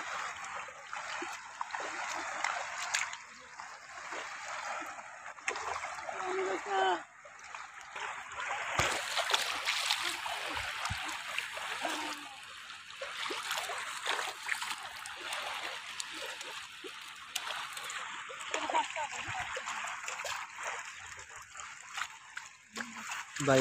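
Fish being lifted out of a net on a river in the rainy season splash and drip, with water trickling and irregular splashes under continuous background voices.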